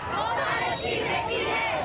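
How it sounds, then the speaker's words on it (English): Large protest crowd in New Delhi shouting and chanting together, a dense, sustained roar of many voices at steady loudness with no pauses. "The massive crowds demanding urgent government action."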